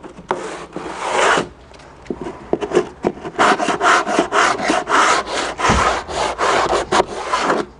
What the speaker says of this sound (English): Allows me to just sand it off.